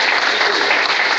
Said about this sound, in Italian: al lupo ancora mendicino della Salernitana, a cui va ancora un caloroso applauso.